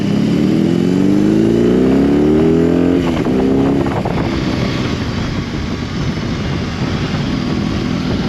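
A 2022 BMW R18B motorcycle engine revs up in rising pulls, loud and close, then settles into a rough, throbbing idle with wind noise.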